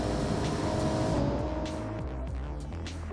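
A carbureted SUV engine in the BeamNG driving game accelerates hard and steadily, a loud continuous engine roar with rising revs and a brief tire-like squeal, no voices.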